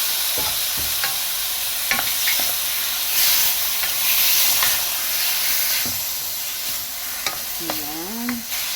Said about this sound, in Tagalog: so I will put now the laham, karne. Yung marinated natin. Ayan. Halo na natin siya.